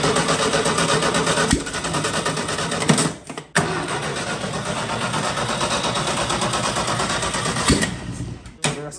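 An air-cooled engine in a long-neglected barn-find car cranks and fires, running loud and rough with a couple of sudden cut-outs and restarts, close to the microphone, no voices.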